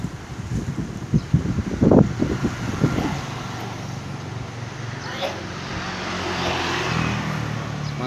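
Strong wind sweeps through Pangalengan during a dust storm with roofs blowing off, a steady roaring rush that buffets the microphone in gusts, with brief murmuring voices and rustling early on.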